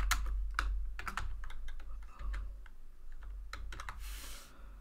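Typing a page name on a computer keyboard, with irregular bursts of close, crisp keystrokes and a short run of quick presses near the end, heard alone with no talking.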